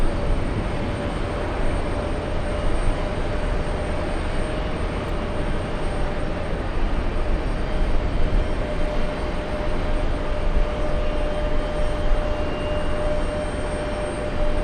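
A TAP airliner arriving from Lisbon at JFK airport, heard as a continuous broad jet-engine roar that holds steady and fairly loud throughout, with no voices.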